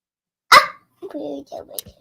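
A dog gives one sharp, loud bark nearby, followed by a person speaking briefly and a second, fainter bark near the end.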